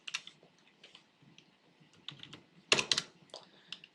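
Quiet computer keyboard typing of CSS code, irregular clusters of light key clicks with a brief faster burst near the end, no talking.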